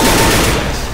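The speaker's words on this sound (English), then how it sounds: "Let's try shooting zombies instead of people, okay?" Rapid, loud gunfire from shooting zombies in Left 4 Dead 2 plays as a dense, continuous burst that tapers slightly at the end.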